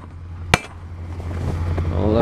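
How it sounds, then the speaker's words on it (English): A hammer strikes a snow-covered truck's lights once, a sharp close smack followed by the soft spill of falling snow over a low engine idle. "So I usually take a hammer and I smack them right here."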